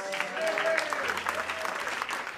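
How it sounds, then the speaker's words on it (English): Audience applauding as jazz performer Delphio Marcellus is introduced, a lively round of clapping with faint voices and a few sustained tones beneath. "Let's give a big round of applause to Mr."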